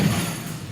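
A Confringo fire spell blast lands during a Hogwarts Legacy duel as a short, loud, low thud with a dull boom.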